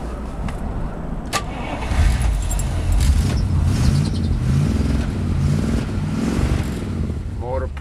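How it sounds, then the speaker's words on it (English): Original V8 engine of a 1953 Pontiac Chieftain convertible idling close by, a steady low rumble running continuously with faint clinks and a brief voice near the end. "Motor purrs like a kitten"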